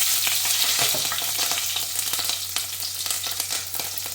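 Green chilies, added after red chili for an Andhra-style dish, fry loudly in a pan with a dense, continuous sizzle and scattered crackles from stirring.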